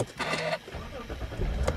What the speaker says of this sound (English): now with the two wires shorted, we're going to start the vehicle.